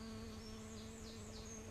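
A bee buzzes faintly and steadily among vegetable plants in a June kitchen garden under grey skies, a soft continuous drone with no voices.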